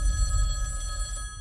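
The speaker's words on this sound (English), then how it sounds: "that phone over there is gonna ring" An old-style telephone bell rings briefly in a film trailer, a bright metallic trill over a low rumble.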